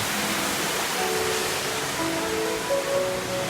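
A waterfall pours beside a stream in the village of Mae Kampong, Thailand, giving a steady, dense broadband rush of water that stays unbroken and fairly close throughout.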